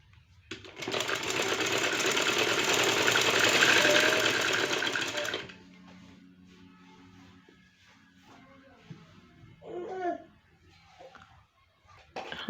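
Sewing machine running steadily for about five seconds, stitching lace onto palazzo trousers, a close, loud whirring buzz that stops abruptly, followed by quiet handling noises and faint rustling of fabric.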